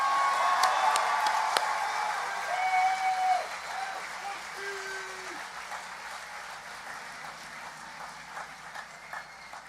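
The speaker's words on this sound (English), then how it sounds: "let's give a big round of applause to Ms. Buskey and Mr. Soika" A graduation ceremony audience breaks into broad applause, many hands clapping at once, loudest at the start and gradually thinning as it fades over several seconds in a large room.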